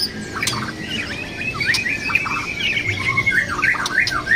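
A white-rumped shama sings continuously nearby, a bright run of whistles, chirps and squawky notes over a steady background hum.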